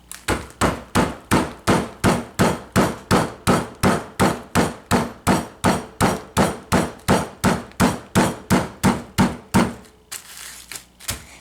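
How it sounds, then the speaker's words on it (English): Palm repeatedly smashing a closed bag of crumbs for a beach-themed pudding: about twenty-five sharp, loud thuds in a steady rapid rhythm, then stopping, with no talking. "And then we're going to smash it with your palm of your hand."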